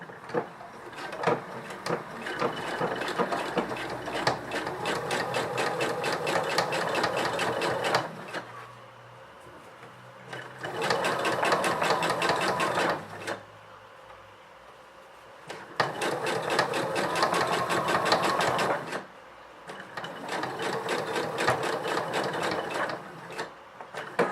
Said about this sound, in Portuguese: Eu vou cozer de uma maneira que se chama stitch in the ditch, que é cozer com a agulha mesmo a acertar na dobra